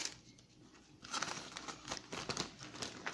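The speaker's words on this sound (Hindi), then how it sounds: "उसको ज़िपलॉक बैग में डालेंगे।" Oreo cookies are dropped into a plastic ziplock bag in a kitchen, making a steady close rustling and crinkling of plastic that grows busier partway through, with no voices.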